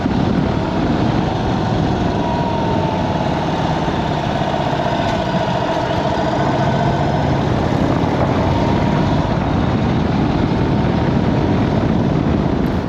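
An air-cooled Indian Sport Chief V-twin motorcycle engine runs with a continuous, steady mechanical drone at a constant level, with no pauses or speech.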